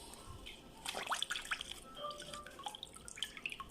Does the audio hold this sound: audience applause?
no